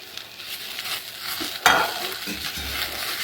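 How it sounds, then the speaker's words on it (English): Curry leaves dry frying in a kadai give a soft crackling sizzle with faint stirring scrapes, quiet and steady, with one sharper clatter near the middle. "just adding the curry leaves first in the kadai, and I'm just dry frying this"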